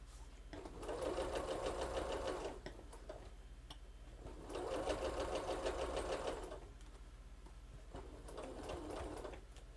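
A sewing machine stitches a Triple Irish Chain quilt block in three steady mechanical runs of rapid rhythmic needle clatter, with short quiet pauses between them, close and moderately loud.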